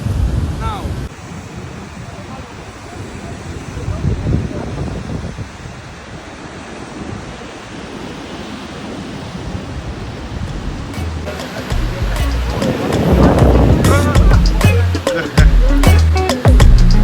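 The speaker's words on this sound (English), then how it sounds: "I'm at the beach" Ocean surf rolls in at Labadi Beach, Ghana, with heavy wind buffeting the microphone, the waves building to a louder, closer wash toward the end.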